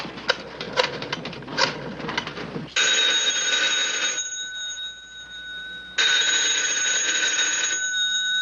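A telephone bell rings in two long, loud bursts separated by a short pause. Clattering mechanical taps come before the first ring.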